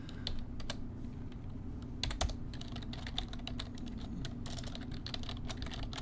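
Fingers type C# code on a computer keyboard, a continuous close patter of key clicks with a few louder strokes over a low room hum.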